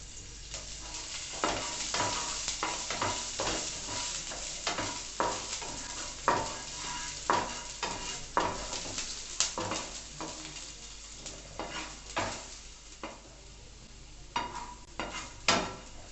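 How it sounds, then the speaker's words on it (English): Chopped garlic sautéing in a pan for white sauce pasta: a continuous sizzle with repeated sharp scrapes and clicks of a utensil stirring against the pan, close and fairly quiet, with no voices. "add the chopped garlic. Saute it for some time."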